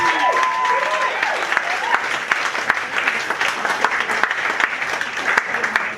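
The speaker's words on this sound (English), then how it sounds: "I think that deserves a big round of applause." Wedding guests break into sustained applause for charity fundraisers, a dense, steady round of clapping from a roomful of people that carries on for several seconds with a few faint cheers mixed in.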